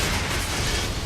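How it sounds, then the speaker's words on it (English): Loud, dense explosion in the video game Mass Effect 2, a sustained rumbling blast with low boom and broad crackling debris that fills the whole moment without any talk. "That's a big ol' explosion."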